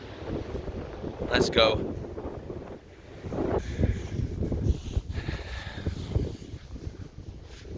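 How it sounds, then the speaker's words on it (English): Strong coastal wind buffets the microphone with heavy, continuous rumbling gusts on a walk at Lindisfarne (Holy Island), while people talk briefly over it. "It's very windy"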